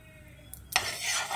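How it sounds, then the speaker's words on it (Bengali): Oil is swirled and stirred around a wok (kadai) for street-style chowmein, with a light scrape followed by a rising, sustained sizzle. "তেলটা দিয়ে এভাবে নেড়ে চেড়ে কড়াইয়ে লাগিয়ে নিতে হবে।"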